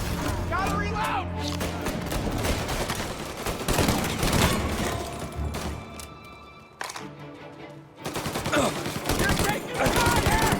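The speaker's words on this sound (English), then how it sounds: "You're taking fire!" Heavy gunfire from Mafia: Definitive Edition, with dense bursts of automatic and rapid shots running almost the whole time and a short lull near the end. Shouted voices are mixed in with the shooting.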